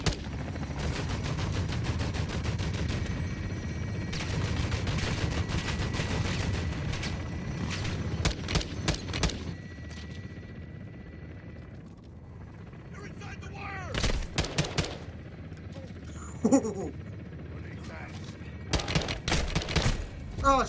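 Automatic gunfire rattles through a Call of Duty Modern Warfare II battle, with dense bursts and fusillades for the first half, then sparser shots and booms as a voice talks over the fighting.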